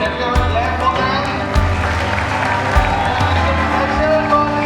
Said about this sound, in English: Everyone clap for them.